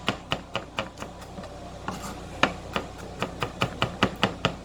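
A knife rocking and chopping vegetables on a cutting board, a steady run of close, crisp knocks about three or four per second, loud and alone.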